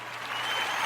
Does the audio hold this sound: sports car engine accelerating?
no